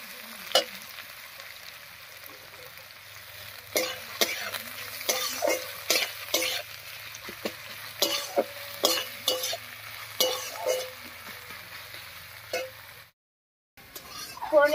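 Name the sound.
chopped onions frying and being stirred in oil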